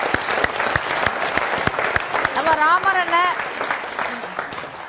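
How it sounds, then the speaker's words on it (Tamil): A studio audience at a Tamil television comedy competition claps for two comedy performers, sharp, uneven bursts of applause with a voice and a brief rising, wavering tone cutting in partway through. "அதுக்கு கண்டிப்பாக அவங்க ரெண்டு பேருக்கு கைத்தட்டி கொடுக்கணும்"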